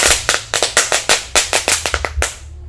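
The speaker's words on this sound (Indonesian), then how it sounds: "mercon telur dino guys kita nyalakan" A dino egg firecracker set off in the ground bursts into a rapid string of sharp cracking pops, about fifteen loud close bangs in under three seconds, then stops, with no talking.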